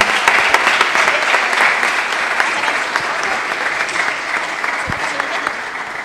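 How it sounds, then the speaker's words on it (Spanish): Student council session audience giving a sustained round of applause after a swearing-in, dense and loud clapping throughout with a few voices underneath. "Un aplauso."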